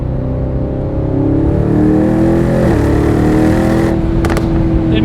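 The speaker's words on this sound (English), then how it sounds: "the diff is making all kinds of crazy clicking noises" A 2026 Aston Martin Vantage Roadster engine drones and rises in pitch close by, with a few sharp clicking ticks from the differential near the end over the steady exhaust hum.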